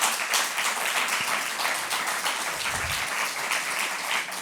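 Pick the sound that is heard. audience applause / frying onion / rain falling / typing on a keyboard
audience applause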